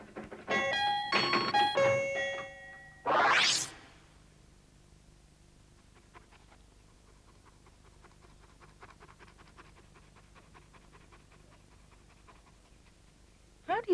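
A dog pants in quick rhythmic breaths, faint and steady, after a doorbell chime and a short rising electronic sweep, with a brief burst returning at the very end.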